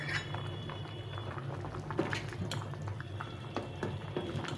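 A pot of khichuri made with gobindobhog rice, lentils and vegetables bubbles on the stove, giving a soft, steady simmer with scattered pops and small liquid blips, close and quiet, with no one speaking.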